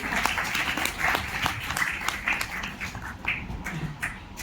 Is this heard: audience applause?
yes